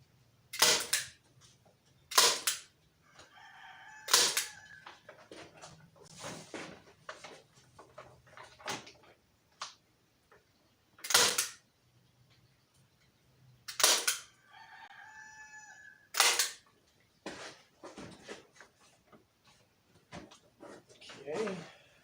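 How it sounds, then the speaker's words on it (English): A rooster at a homestead chicken coop crows several times in the background, heard alongside sharp loud knocks and bangs, with people talking nearby. "Can you guys hear the rooster through there?"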